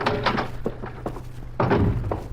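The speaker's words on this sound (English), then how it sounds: "The door to Claire Maxwell's room isn't locked" A door opens in a 1950s radio crime drama, giving a couple of soft wooden thunks and a heavier thud near the end over a low steady hum, with no voices.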